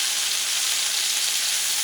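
Chicken and pork pieces sizzle steadily in a hot pan while being turned, a dense, even crackle of frying fat filling the whole stretch with no voices.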